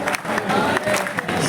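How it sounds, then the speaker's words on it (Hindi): Applause from the audience at a Hindi poetry gathering, a kavi sammelan, rises as a burst of clapping from a crowd, mixed with voices. "देखो जब तक सारे ताली नहीं बजाओगे दूसरी पंक्ति नहीं सुनाऊंगा"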